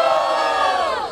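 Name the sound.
crowd cheering at rap battle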